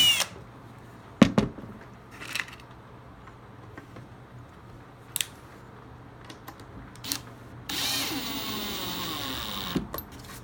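A power drill drives a screw into the rub rail of an Alcort Super Sailfish boat: a close burst of drilling, about two seconds long, that follows scattered knocks and clicks from handling parts.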